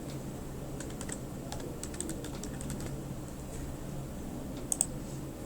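Keys on a computer keyboard are tapped in quiet, scattered clicks, sometimes in quick bursts, over a low background hum.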